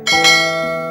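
A single bright bell chime rings out clearly and alone, with a sharp strike followed by a sustained, slowly fading metallic ring.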